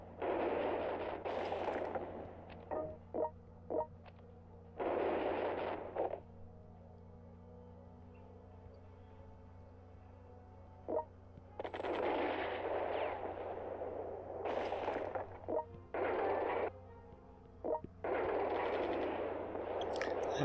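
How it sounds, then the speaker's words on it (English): Strategic bombing attack in the strategy game World Conqueror 3: several loud bursts of rumbling, crackling blasts, each lasting a second or two, separated by quieter pauses. "strategic bombing"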